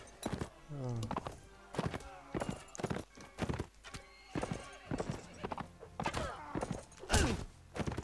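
Horses in the Mount & Blade Warband video game gallop in rapid clip-clop hoofbeats, with neighs and whinnies and thuds of combat, while players talk over the action.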